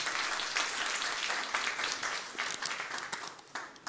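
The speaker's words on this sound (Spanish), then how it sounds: "Démosles aplauso bien fuerte." A church congregation applauds loudly, a dense, steady wash of many hands clapping that carries through the whole stretch with slight swells and no break.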